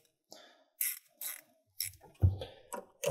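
Ratchet tool tightening the 12V battery terminal connection on a Ford F-150 Lightning, a series of short close ratcheting clicks in separate bursts with brief pauses between them.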